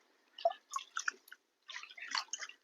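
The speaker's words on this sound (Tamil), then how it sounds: "அதனால இந்த பருப்பை வந்து களைஞ்சு வச்சுக்கலாம்." Lentils (dal) rinsed in water by hand, close wet squishing and swishing in two short bursts separated by a brief pause, with no talking.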